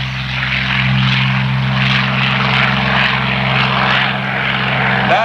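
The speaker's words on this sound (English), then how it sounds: "getting ready to take off the P-40E Curtiss." A Curtiss P-40E propeller fighter with a 1170-horsepower Allison V12 engine, built in 1945, roars steadily close by at an airshow as it prepares to take off, a loud continuous engine drone with a deep low hum throughout.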